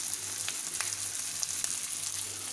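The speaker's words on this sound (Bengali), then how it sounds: "পেঁয়াজটাকে হালকা করে নেড়ে নেড়ে একটু ভাজা ভাজা করে নেবো" Sliced onions frying in a pan of hot oil while being stirred, a steady close sizzle with small crackles and pops throughout, no talking.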